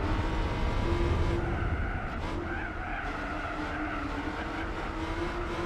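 A car engine in the Gran Turismo 4 video game, racing around the Trial Mountain circuit, holds a steady, smooth drone with shifting pitch and faint tire noise. It stays loud throughout with no talk.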